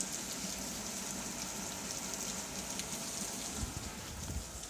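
Rain falls steadily near a cave entrance, a soft, even hiss of drops pattering on surfaces with occasional slightly louder splashes, faint and continuous throughout.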